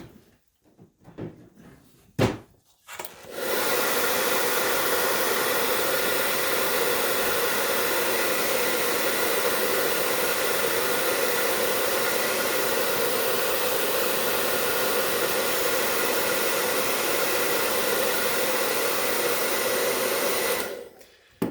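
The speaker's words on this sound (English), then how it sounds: "So I'm going to blow dry that really quick." A handheld hair dryer blow-drying hair starts after a few soft handling clicks and runs as a steady, loud whooshing roar for about eighteen seconds before switching off.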